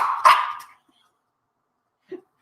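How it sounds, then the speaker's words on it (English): Bulldog puppy giving one sharp, close bark followed by a short tail, then silence and a faint little yip near the end. "It's like he doesn't even know what he's barking at."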